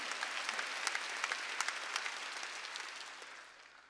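A church congregation at a Korean Wednesday worship service applauds in thanks, a broad, even wash of many hands clapping that gradually thins and fades toward the end.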